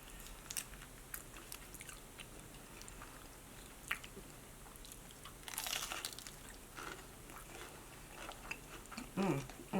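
Crunchy bites and chewing of a Taco Bell toasted cheddar chalupa with crispy cheese and meat, close to the mic, steady mouth sounds with louder crunches near the middle and end.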